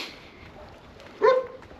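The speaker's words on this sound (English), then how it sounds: "you guys can probably hear the dog now as well" A single dog bark rings out at a moderate distance over a quiet outdoor background on a side road on São Miguel.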